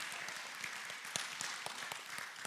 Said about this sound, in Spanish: Un aplauso a mi tío favorito.